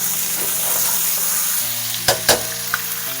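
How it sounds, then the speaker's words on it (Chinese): Celery stir-fried in a hot wok with ginger, garlic and chillies, sizzling loudly and steadily, with a few sharp scrapes of the spatula near the end. "放入咱们的香芹， 继续翻炒一下"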